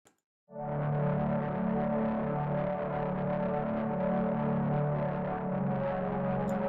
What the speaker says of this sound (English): it sounds like a distorted organ more than a pad